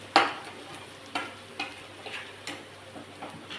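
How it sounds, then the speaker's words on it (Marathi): Spices sautéing in oil for misal pav, a soft steady sizzle broken by sharp scrapes and taps of a spoon stirring against the pan at irregular intervals, close by. "मसाल्यांना छान तेल सुटूस तर परतू"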